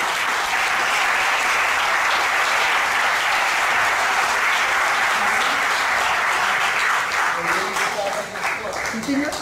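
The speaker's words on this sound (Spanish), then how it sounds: "les pido un aplauso para todos los miembros de la mesa" Loud, dense audience applause at a poetry recital during a literature week, sustained clapping from a large crowd throughout, with faint voices beneath it near the end.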